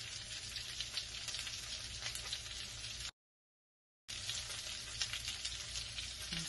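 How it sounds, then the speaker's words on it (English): Fish searing and browning in a hot pan, a steady loud sizzle and crackle that cuts out briefly partway through before resuming just as strong. "I'm going to brown the top really quickly and then flip it back to let it slowly finish on the skin side"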